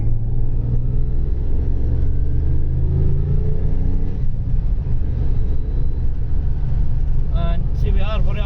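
The one-off Lotus Carlton estate car pulling away on the road, a deep, steady engine rumble heard from inside the cabin with a faint rising whine, close and loud, and someone speaking over it.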